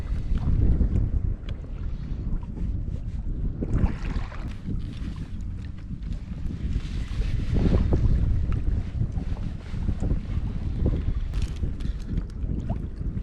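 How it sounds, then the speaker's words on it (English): Cold wind picks up around a fishing kayak on UK waters, a continuous gusty rumble across the microphone with water slapping and rustling underneath, steady and fairly loud for the whole stretch, without speech. "That wind's starting to pick up, it's quite cold."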